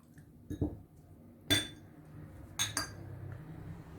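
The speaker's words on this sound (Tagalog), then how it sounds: "Mix all the ingredients." A few sharp clinks of a utensil against a bowl while pork chop marinade of soy sauce, vinegar, paprika and garlic is mixed: scattered separate taps, two close pairs and a louder single strike, over a quiet background.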